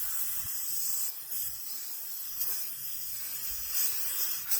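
Air hisses steadily out of a car tyre as it is deflated a little, a continuous close, broad hiss with slight swells in level, alone without talk.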